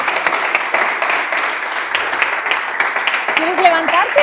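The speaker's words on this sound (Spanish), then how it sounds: "pues un fuerte aplauso" Applause fills a museum gathering on traditional knife-making, steady and fairly close throughout, with a voice speaking over it toward the end.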